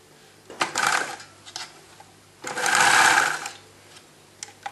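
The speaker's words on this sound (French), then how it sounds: "Et maintenant, on coud dans le sillon." A sewing machine stitches in the ditch along a seam of a garment from a sewing kit, two rapid whirring bursts up close, one short and one longer, separated by a pause with light clicks.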